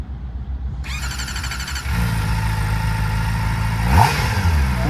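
A 2024 Kawasaki ZX-4RR motorcycle in road mode starts and idles with a high-pitched whine, then its engine revs up sharply around the middle, a close, loud, buzzing four-cylinder roar with no talk.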